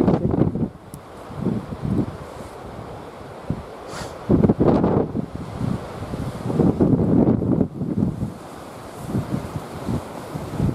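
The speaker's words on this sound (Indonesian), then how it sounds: "Lihat guys, anginnya luar biasa, sangat kencang." Strong gusting wind roars on the steep summit trail of Mount Lawu, buffeting the microphone in uneven surges that rise and fall, with no clear talk.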